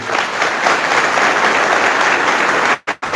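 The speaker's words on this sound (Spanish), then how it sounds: "Un fuerte aplauso para ellos." A Catholic church congregation breaks into strong applause during a priest's talk on the origin of the church; loud, dense clapping continues steadily, then cuts off abruptly near the end.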